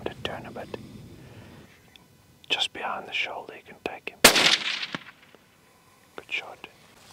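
A rifle shot fired while hunting lechwe, a single sharp crack amid whispered talk, followed by more hushed voices.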